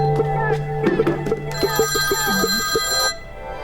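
A telephone rings repeatedly while someone calls Priyan sir, a steady electronic ringing tone followed by a bright, sustained chime, loud and near with no talking over it.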